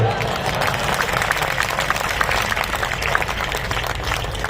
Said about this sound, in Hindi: ताली किसके लिए बजा रहे आप?